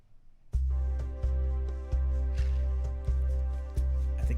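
Backing track with a sustained chord under a clap-like hit that repeats roughly every 0.6 seconds, a crisp accent recurring above the held tones. Steady and moderately loud, with no talking.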